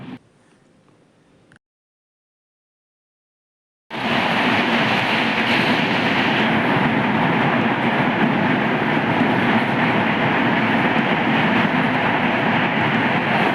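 After a brief near-silence, a steady, loud rumble of a train running on rails sets in and continues unbroken, heard on the Tirunelveli–Jamnagar train.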